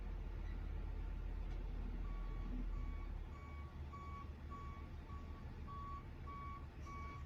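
A truck backing up at a loading dock emits a steady train of regular reversing beeps over a loud, constant diesel idle rumble, the beeps continuing evenly throughout.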